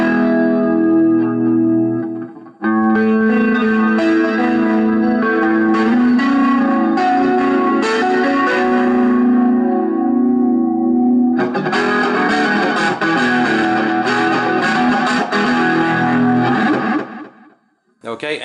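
Electric guitar through a Beta Aivin BM-6 portable amp with chorus and delay, ringing chords and single notes shimmering with echo, a short pause partway, then a denser strummed passage that cuts off near the end.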